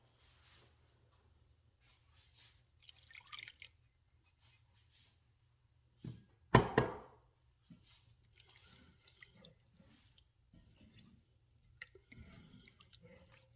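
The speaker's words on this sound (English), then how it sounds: "But you also have to add some, a half a cup of water." Half a cup of water is poured into a pasta pot in a home kitchen, a short close splash midway through an otherwise quiet stretch with faint drips and small handling noises.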